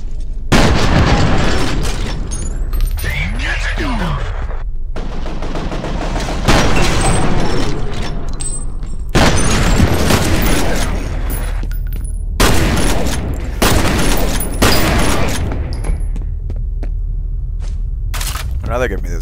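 Repeated bursts of gunfire and explosive booms from the video game F.E.A.R., including a harpoon gun, loud and close in clustered volleys with brief pauses, while a voice shouts over the action.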